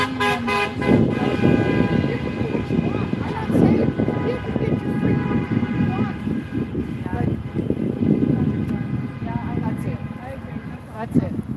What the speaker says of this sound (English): This is a lot of honking and approval.